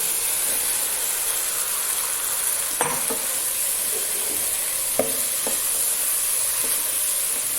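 About half a kilo of chopped, washed eggplant is stirred into a hot pan, giving a steady, even sizzle broken by a few short scraping clicks of the spoon.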